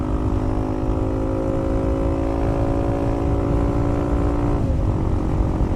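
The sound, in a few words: Yamaha XT250 motorcycle riding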